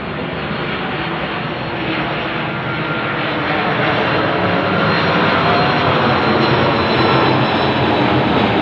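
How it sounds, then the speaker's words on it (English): An airplane passes right overhead above a roof on a street, its engine roar loud, broadband and steady for the whole stretch, swelling slightly in the latter half with no talking. "I'm not sure if I'm getting these planes in. They're right over my head"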